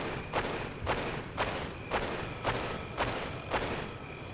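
Footsteps crunching over gritty ground in a horror video game, a steady walking rhythm of about eight even steps, close and moderately loud over a constant background hiss, with no talking.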